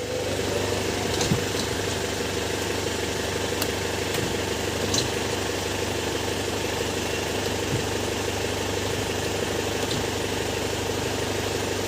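A 2012 LS Turbo car engine idling steadily, a smooth continuous hum at even volume throughout, with no voices.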